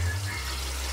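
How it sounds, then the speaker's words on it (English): Cold tap water filling a bowl in a home kitchen, a steady close rushing pour for about a second with a low tonal rumble underneath, no speech. "Fill the bowl up, cold water, and let them soak for 2 hours"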